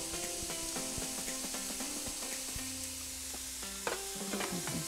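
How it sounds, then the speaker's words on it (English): Zoodles are sautéed in a frying pan with a soft, steady sizzle, while a utensil scrapes and clinks against the pan now and then. "And saute those around."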